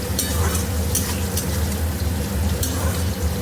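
Fish frying in a home kitchen pan, a dense close sizzle with a low steady hum underneath and a few sharper bursts of spitting oil, briefly heard with no talk.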